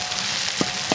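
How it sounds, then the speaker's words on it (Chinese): Onions fry in hot oil for a spicy noodle sauce, giving a steady, close, dense sizzle with a couple of faint pops and stirs. "一定要把这个洋葱炸香啊！"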